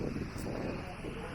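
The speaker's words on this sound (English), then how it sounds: "Oh, it's windy." Wind gusts outdoors in a backyard, a steady rumbling buffet across the microphone with no break, moderately loud throughout.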